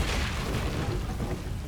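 A fire spell, Incendio, cast in the Hogwarts Legacy video game: a dense, steady whooshing burst of flame with a low rumbling boom, loud and continuous for under two seconds with no talk.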